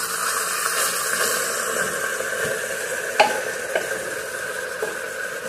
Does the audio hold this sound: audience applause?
no